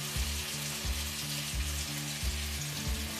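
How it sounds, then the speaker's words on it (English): Tomatoes and spices for mung bean dal fry in a pan, a steady faint sizzle with a low humming tone that pulses in a regular beat underneath. "we cook the tomatoes till they are slightly soft, and then we add our spices to this."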